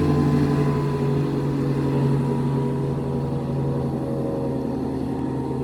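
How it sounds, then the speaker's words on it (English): A steady, droning boat motor approaches on the Suwannee River in north central Florida, humming continuously at moderate distance, a low engine tone holding fairly even throughout with no voices. "Well, I hear a boat coming."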